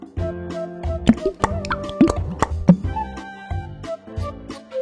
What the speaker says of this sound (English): Pour some olive oil.